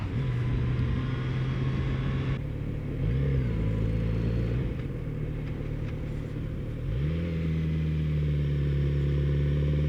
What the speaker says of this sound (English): This bike turns so good.